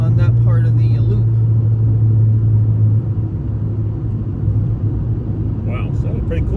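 A turbocharged car drives along a road loop, a steady loud engine drone with low rumble that eases slightly partway through, and tire and road noise continuing underneath.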